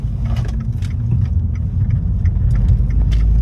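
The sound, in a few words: Fiat 500 Abarth car engine while driving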